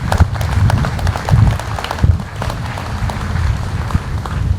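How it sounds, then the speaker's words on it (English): Audience applause at a Veterans Day program after guests from an Elks committee are introduced, a steady, fairly loud wash of clapping with dense taps running throughout, no voices over it. "Let's please give our guests a round of applause."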